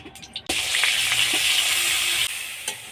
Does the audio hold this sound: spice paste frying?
yes